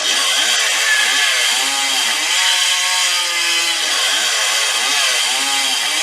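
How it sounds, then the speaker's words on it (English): A chainsaw runs continuously at high revs, its engine pitch rising and falling in waves as it cuts, loud and close with no talking. "Chainsaw."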